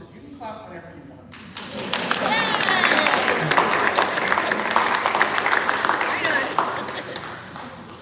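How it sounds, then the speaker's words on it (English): A crowd applauds at a relaxed outdoor band concert on the beach, clapping swelling in after a short spoken moment and holding steady and dense for several seconds before tapering slightly. "You can clap whenever you want."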